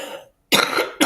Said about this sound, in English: Sorry, I'm going to have a cough